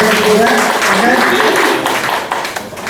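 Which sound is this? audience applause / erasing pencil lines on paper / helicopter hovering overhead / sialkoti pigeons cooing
audience applause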